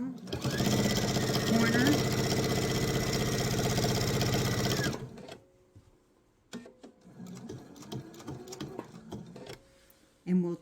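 A sewing machine stitches a laptop sleeve toward a corner in one long, loud, steady run that stops partway through. Then comes quiet handling and a brief spoken word.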